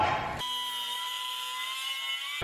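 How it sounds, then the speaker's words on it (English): A Dremel rotary tool cuts through a straight exhaust pipe for a Lexus IS350 custom exhaust, giving a steady high whine that starts abruptly and holds for about two seconds, loud and close. "He's gonna cut off the piping with a Dremel."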